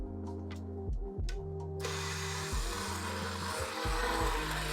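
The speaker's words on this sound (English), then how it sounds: "now's the fun part, immersion blending" Immersion blender whirring in a pot of soup at home, short bursts of motor hum that stop and restart several times, then a steady blend with the blade churning liquid, fairly close and moderate in level.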